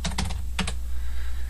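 Quick keystrokes on a computer keyboard, a short cluster of crisp taps followed by a second brief burst, then only a steady low background hum.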